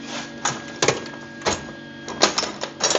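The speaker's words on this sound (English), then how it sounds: "I'm going to tack these up real quick" Tack welding closes holes in a car rocker panel, heard as short irregular crackling, sputtering bursts of the welder arc with brief gaps between them, close and fairly loud, with no talk.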